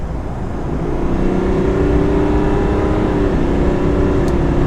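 A 2021 Chevrolet Silverado 1500 Duramax diesel pickup accelerates, its droning tone rising in pitch and holding strong over about four seconds, close and loud, with no speech.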